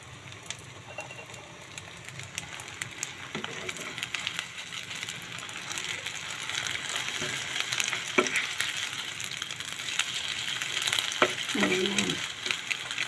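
Eggplant omelette (tortang talong) frying in a pan, a continuous close sizzle with scattered crackles and light spatula scrapes, growing slightly louder over time, with no talking.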